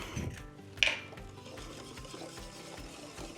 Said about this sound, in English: we'll just whisk our egg in